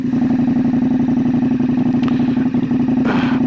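Motorcycle engine of a KTM Super Adventure S pulling over, a loud steady close rumble with a mechanical clatter throughout and a brief hiss near the end.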